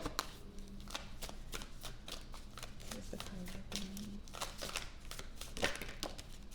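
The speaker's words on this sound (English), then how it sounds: "I'm going to shuffle." Oracle cards being shuffled by hand, a rapid series of crisp papery riffles and taps repeating close up over a low, soft background.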